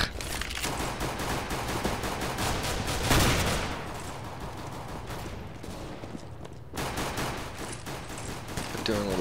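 Rapid gunfire rattles through a CS:GO Arms Race match, with dense bursts of shots almost nonstop and a short, quieter pause partway through. A player's voice comes through now and then under the shooting.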